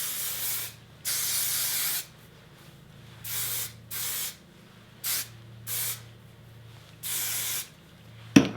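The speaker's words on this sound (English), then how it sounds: "I'm gonna be putting texture spray in it" A Schwarzkopf Professional texture spray hisses onto hair in seven or eight distinct bursts of varying length, close and clear, with quiet gaps between each spritz.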